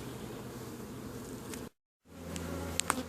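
Steady, dense buzzing of many honeybees at close range in an apiary, briefly cut to silence midway before the hum resumes.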